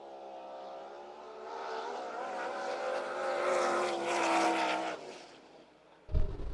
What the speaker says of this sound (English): he's got to get up against the rev limiter, so it always sounds kind of cool when he first fires up to take off